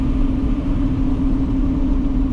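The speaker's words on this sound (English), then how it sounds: "you let off, and you hear it spool down" A diesel pickup truck's engine rumbles steadily with a low drone and a faint higher whine as the turbo spools down after letting off the throttle, heard close and continuous with no talking.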